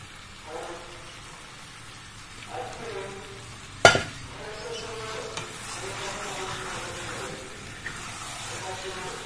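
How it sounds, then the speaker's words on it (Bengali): Marinated meat, spiced with coriander and cumin, fries and is stirred in a pan, giving a steady close sizzle with scraping stir strokes and a sharp clatter near the middle. "এবার আমি ম্যারিনেট করা মাংসটা এর মধ্যে দিয়ে দেবো।"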